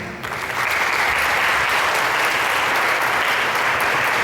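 Loud, dense applause from a crowd at a public hearing starts abruptly and holds steady, many hands clapping together with no talking.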